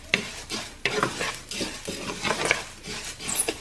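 Mexican rice is stirred in a pot, a spoon scraping through sizzling grains in quick repeated strokes, close and distinct, about seven sweeps over a few seconds with faint frying underneath.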